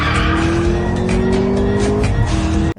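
Racing car engine roaring with squealing tires as it drifts, a sustained loud whine running steadily for nearly three seconds before cutting off abruptly, from a Nintendo Switch 2 trailer.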